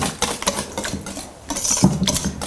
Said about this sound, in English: now let's just whisk this all together for about a minute until it's nice and combined